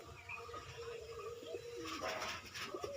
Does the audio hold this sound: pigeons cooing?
yes